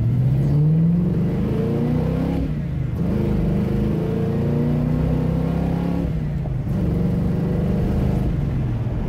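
A 1970 Pontiac GTO V8 revs hard on takeoff, a loud, close engine roar climbing in pitch through several gear pulls with brief dips between shifts, steady and continuous without talk.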